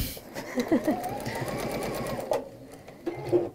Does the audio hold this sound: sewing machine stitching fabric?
yes